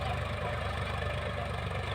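A tractor engine runs steadily with a cultivator attached out in a field, a continuous close, moderately loud low idling drone with no pauses.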